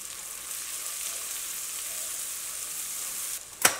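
A soup pot sizzles steadily as salt and pepper are stirred in, with a constant close hiss and a sharp clink of a utensil near the end.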